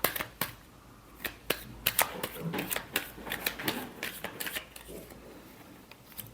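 Tarot cards being shuffled, a run of crisp, rapid riffling snaps close to the microphone, irregular in rhythm, with a person talking over them.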